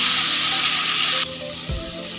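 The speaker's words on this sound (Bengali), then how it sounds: "এবার ফুলকপিগুলো ভেজে নেব।" Cauliflower pieces seasoned with salt and turmeric fry in a pan with a loud, dense sizzle that drops sharply halfway through, followed by a low clunk, as if the pan is moved.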